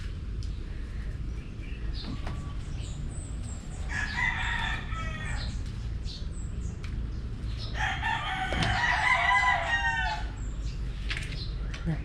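Ulikba chickens cluck steadily against a constant low hum, while roosters crow in two long bursts partway through, with small chicks chirping around them.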